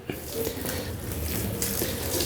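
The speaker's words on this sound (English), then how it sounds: "I'm going to tip some water" Water is tipped from a half-full tub onto a carpet, a continuous splashing pour lasting a couple of seconds that grows brighter near the end, close and with no talking.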